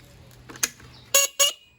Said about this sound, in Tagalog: Ayan, stock na busina natin Ito.